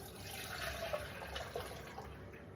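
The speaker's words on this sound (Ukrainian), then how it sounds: "Оце каркаде, яке ми висипали, я його проціжую в баночку." Hibiscus tea being strained from a saucepan into a small jar, a steady soft trickle and splash of liquid running continuously for a few seconds, fairly quiet and close with no talking.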